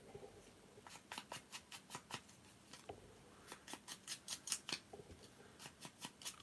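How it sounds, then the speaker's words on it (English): Scissors trim printed craft paper, a series of sharp, close snips in short bursts with brief pauses between them, fairly quiet and without talk. "Trim that little bit off."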